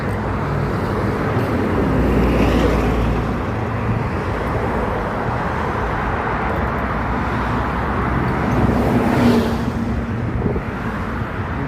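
Steady road traffic with cars rolling past on a street at night, a continuous broadband rumble that swells briefly a couple of times, loud and close with no talking.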